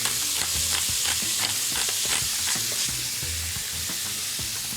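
Squid sizzling as it cooks after a seasoning of salt and pepper, a steady, close crackling hiss of frying with small spatters and pops throughout, no talking.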